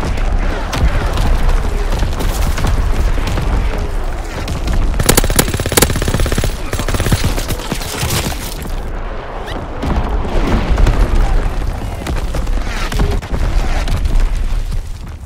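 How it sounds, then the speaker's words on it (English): Enemy artillery and gunfire in the World War II shooter Call of Duty WWII multiplayer: continuous loud machine-gun bursts, booming explosions and shell blasts pound without pause, with a brief crackling burst in the middle. "Incoming enemy artillery!"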